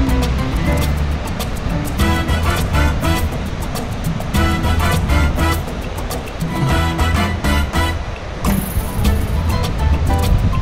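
A golf cart rolls along at the beach, its motor humming steadily under loud wind buffeting and surf noise, with a continuous rumbling drone throughout.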